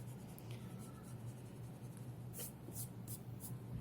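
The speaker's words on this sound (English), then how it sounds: "I'm going to start erasing my guidelines" A pencil-drawn figure has its guidelines erased in faint, quiet rubbing strokes, followed by a few brisk scrubbing bursts near the end.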